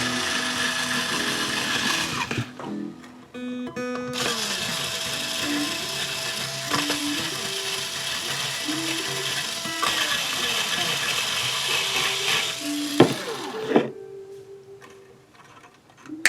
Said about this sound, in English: I'm going to pull all 6 strings off of here.